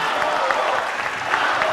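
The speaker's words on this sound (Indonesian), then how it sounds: "kita berikan tepukan yang paling meriah untuk para calon pemimpin Indonesia" Audience at a televised presidential candidates' debate in Indonesia applauding, a dense, continuous wash of clapping from a crowd that holds steady throughout.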